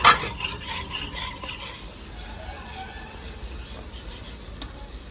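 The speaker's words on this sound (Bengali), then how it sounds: "দইটা মশলাটা মিক্স করে দিয়ে দেবো" A spoon stirs yogurt into a spiced masala gravy in a pan for prawn bhuna, with steady scraping and a soft background sizzle throughout, beginning with a brief louder clack.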